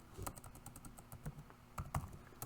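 Quick, uneven keystrokes patter on a computer keyboard, close and fairly quiet, a short run of typing with no voices.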